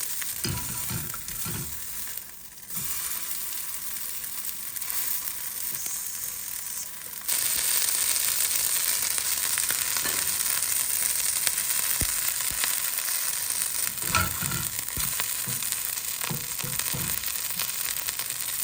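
A bean burger patty sizzling in a pan while being turned for golden color, a steady frying hiss with scraping spatula and stirring clatter, louder in the second half.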